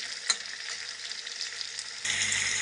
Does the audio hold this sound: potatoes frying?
yes